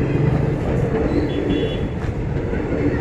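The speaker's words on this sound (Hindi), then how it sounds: "ट्रेन के साथ ओपनिंग लोको" A train hauled by an opening locomotive, WAP-series 30655, rolls past at close range, a loud continuous rumble and rattle of wagons with faint rail clatter and some whining tones throughout.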